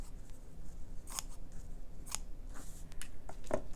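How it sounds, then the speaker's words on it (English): Scissors trim the edge pieces off fabric strips for a Halloween slow-stitching panel. A few sharp, separate snips cut through at uneven intervals over a soft, steady background hum, close and clear with no talking. "just trim the edge pieces just so that it's a little neater to work with"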